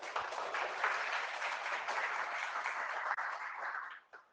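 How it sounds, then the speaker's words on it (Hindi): A classroom crowd of students claps enthusiastically in a sustained burst of applause that holds steady for several seconds, then fades out abruptly. "एक जोरदार ताली अपने लिए बजा लो यार।"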